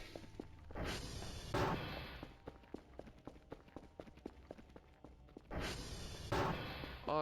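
Footsteps walking outside in the horror game Voices of the Void, a series of soft, irregular thuds at moderate distance over a low ambient hum, with a few louder bursts near the start and end.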